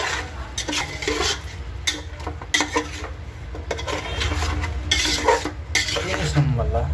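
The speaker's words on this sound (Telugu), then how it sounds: "టమాటీ వేసుకొని పేస్ట్ని వేసుకొని శుభ్రంగా కలుపుకోవాలి" Onion paste and tomato are stirred in a pan for Hyderabad-style biryani, giving close scraping and clinking of a spoon against metal over a soft sizzle, in irregular strokes throughout with no talk.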